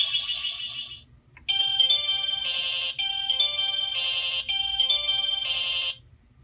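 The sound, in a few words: Sailor Moon Proplica Spiral Heart Moon Rod toy sound effect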